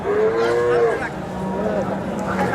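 A cow or calf lows at a busy cattle market, one loud drawn-out moo close by followed by a softer second call, over a constant crowd hubbub.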